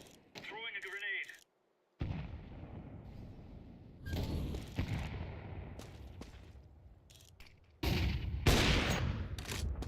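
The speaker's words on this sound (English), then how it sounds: "Throwing a grenade." A grenade is thrown and explodes in a first-person military shooter, with heavy blasts and gunfire-like bursts rolling in loud broadband waves over several seconds, the loudest burst near the end.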